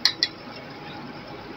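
A metal spoon clinks twice against a bowl while spoonfuls of yogurt go in, two quick bright taps close by, then quiet room tone.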